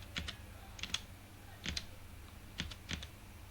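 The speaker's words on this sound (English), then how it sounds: "So if I see in Google, I need to type SketchUp" Typing on a computer keyboard, a few sparse clusters of close, crisp key clicks with short pauses between them in a quiet room.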